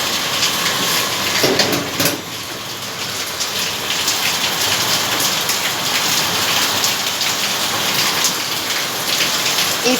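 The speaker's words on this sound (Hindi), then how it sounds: "मेरे यहाँ पे यहाँ सब पूरा बारिश से पानी गिर जाता है" Heavy rain pours down in a steady, dense hiss that stays loud and constant throughout, with a brief clatter near the start and no voices.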